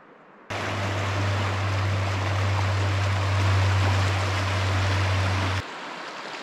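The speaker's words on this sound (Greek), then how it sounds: "από εκεί έρχεται ένα ρέμα και από εκεί έρχεται το ποτάμι" Stream and river flowing together in a rocky gorge, a steady, full rush of water heard close and continuous with no talk, broken only by brief quiet at the start and end.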